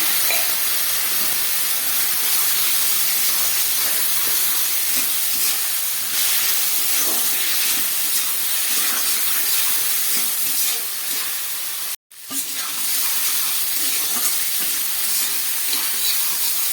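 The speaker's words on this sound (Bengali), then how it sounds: "মশলাটা একদম ভাজা হয়ে গেছে" Ground cumin and dry red chilli powder fry in a pan with a splash of water for a fish curry, giving a continuous close steamy hiss that runs unbroken except for one brief dropout.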